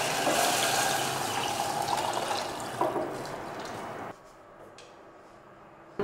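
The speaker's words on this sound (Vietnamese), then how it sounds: "thì mình cho nước vào" Water pours steadily into a pot of stir-fried tomatoes for a sour fish soup, a close, rushing splash lasting about four seconds before it stops and leaves a quiet kitchen background.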